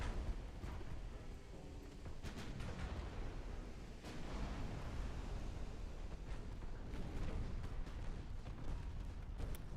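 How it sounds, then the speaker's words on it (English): Heavy 13-inch naval main guns fire in a video game naval battle, a dense, rumbling barrage of deep booms and blasts running continuously with several sharper reports standing out. "Our main guns just ripped him apart, though. Dude, our 13-inch guns aren't to be played with."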